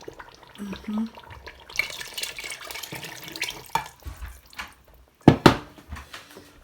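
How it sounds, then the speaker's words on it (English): Meat stock pours and splashes into a pot of Nigerian fried tomato stew in short bursts, with stirring and clinking and a voice speaking intermittently. "Now I'm about to add my meat stock."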